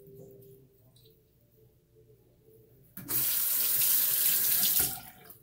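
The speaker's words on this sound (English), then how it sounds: "Just rinse it in cold water just to clean the soap off a little bit." Cold tap water runs into a sink to rinse soap off a Rockwell 6S safety razor, starting abruptly after a quiet stretch with a low hum, then a steady loud gush that cuts off near the end.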